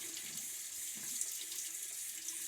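A tap runs steadily while shaving gear is rinsed under it, a quiet, even stream of water splashing into a sink with no talking.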